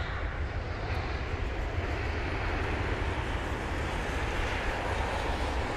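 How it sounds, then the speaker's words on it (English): A British Airways jet lands at Heathrow in stormy, windy, rainy weather, its engines producing a loud, steady broadband roar that fills the whole stretch without a break, with no voices. "that was the BA jet"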